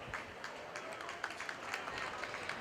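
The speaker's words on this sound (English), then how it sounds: "Let's give those kids a round of applause." Crowd applause for young exhibitors at a county fair market hog show, a steady wash of clapping spread across a large indoor arena, with crowd murmur under it throughout.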